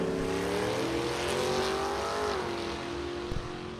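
A Camaro drag racing car idles at the starting line in the right-hand lane while staging, its engine a steady loud rumble with a slight pitch shift partway through, close and continuous.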